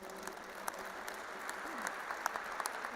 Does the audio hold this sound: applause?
yes